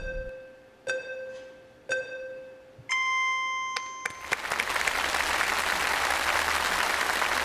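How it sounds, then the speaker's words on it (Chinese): Audience at a Chinese crosstalk comedy show bursting into sustained applause, loud and dense, preceded by a few sharp musical chimes, the clapping continuing steadily to the end. "谢谢您各位掌声鼓励"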